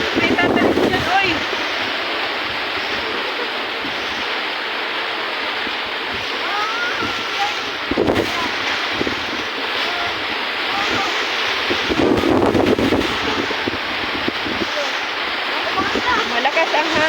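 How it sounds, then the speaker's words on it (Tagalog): Strong wind buffets the microphone with heavy roaring gusts beside a flooding river in Barangay Sto. Niño, San Mateo, Rizal, with rain and rushing water in a constant wash and people talking intermittently over it. "Malakas ang hangin, guys."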